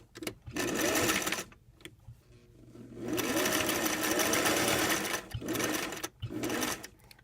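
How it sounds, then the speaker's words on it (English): A sewing machine stitches through a folded welt piece for a pocket, running in bursts of steady whirring with short pauses between runs, close and loud, no talk. "sew through these little triangles, the folded welt piece, so it's pinched up like that"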